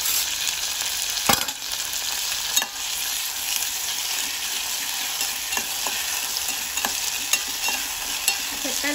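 Tomato pieces fry in hot oil with a constant bright sizzle, while a utensil stirs and scrapes the pan in occasional sharp knocks, close and loud.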